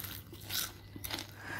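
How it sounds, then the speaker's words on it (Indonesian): Crispy battered fried mushrooms, made without egg, bitten and chewed close to the microphone, giving a few quiet crunchy snaps and crackles with no speech. "Renyah, ringan banget renyahnya."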